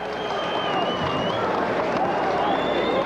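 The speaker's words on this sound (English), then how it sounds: "And his fans here on their feet applauding the effort of inmate James Scott." Fans on their feet at a prison boxing match at Rahway applaud and cheer after the tenth and final round, a dense steady roar of clapping and crowd noise beneath a commentator talking throughout.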